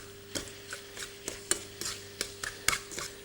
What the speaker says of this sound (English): I'm just cooking down the bacon and the onion